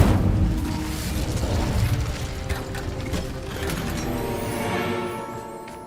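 The Incendio fire spell in Hogwarts Legacy bursts out with a loud whooshing, crackling blast that roars and then tapers into a fading, flickering rumble.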